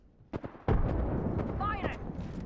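A grenade thrown in Apex Legends, a couple of sharp cracks followed by a heavy booming blast that rumbles on, with a voice talking over it and a brief electronic warble.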